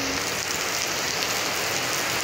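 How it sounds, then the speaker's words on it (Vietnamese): Heavy rain pouring down, a dense, steady hiss and splatter of water on surfaces, loud and continuous with no voices. "mưa quá, cơn mưa thật là siêu to khổng lồ, nước thật là linh láng luôn."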